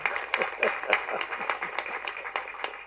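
Audience at a Tamil movie audio and trailer launch clapping in scattered, uneven bursts, a moderate crowd of hands tapping close by without voices.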